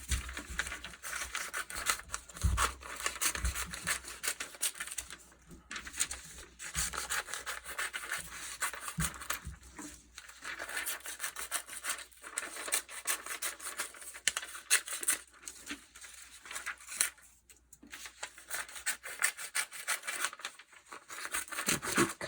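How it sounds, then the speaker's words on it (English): Crinkly newsprint is cut into strips, giving continuous close scissor snips and paper rustling in an irregular rhythm with a few short pauses. "It's thin, it's crinkly. You can hear the sounds it makes."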